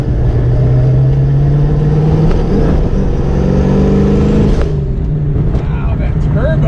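A turbocharged car at a car meet holds a steady, loud engine drone with rising whine and revving, close by, while people talk over it.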